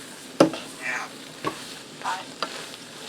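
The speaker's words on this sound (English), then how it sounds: "I'm just going to go ahead and stir this all together real quick to get the bacon mixed through" Boiled fettuccine and bacon being stirred together in a frying pan for carbonara, giving a few soft scraping stirs and light sizzles in separate bursts, fairly quiet with no voices.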